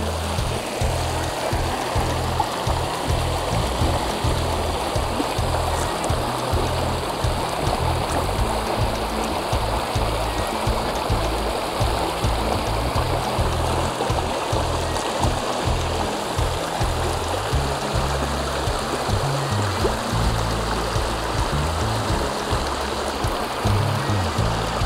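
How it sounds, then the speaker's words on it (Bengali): Clear water flows steadily down a stream in Gorumara forest, a loud, continuous rushing and gurgling close by, with no voices over it. "জলটা যেহেতু বয়ে চলেছে তাই জলটা খুব পরিষ্কার দেখো"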